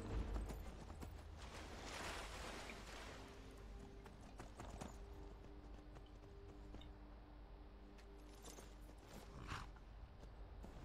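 Horse hooves clip-clop steadily in the video game Skyrim, a moderately near, even walking rhythm over a constant low background ambience with a few faint creaks.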